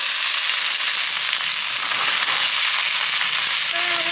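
Shrimp frying in a home kitchen pan, a steady, close, continuous sizzle and crackle of oil that holds at an even level throughout with no talk over it.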